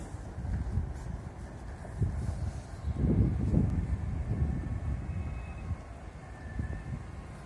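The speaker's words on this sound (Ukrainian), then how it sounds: "Потяг пасажирський." Passenger train passing Pidzamche station below Lviv's High Castle park, a distant low rail rumble swelling midway and then fading, with wind noise over the microphone.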